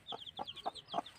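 A mother hen clucking softly beside her newly hatched chicks, four or five short clucks in an even rhythm, with faint high chick peeps between them, close and fairly quiet.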